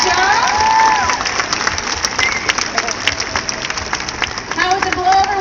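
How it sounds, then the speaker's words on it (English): Large audience at an orca show at SeaWorld San Diego applauding and cheering steadily for the full stretch, dense clapping with whistles and shouts, a trainer's amplified voice talking over the crowd. "You guys can cheer and clap and let him know he's doing a good job."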